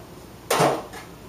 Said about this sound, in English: I grab myself a sheet pan